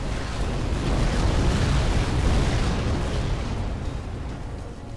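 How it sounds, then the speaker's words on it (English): A space station explodes in the video game Between the Stars, a loud sustained roaring blast that rumbles for several seconds before slowly tapering off. "Explosion imminent."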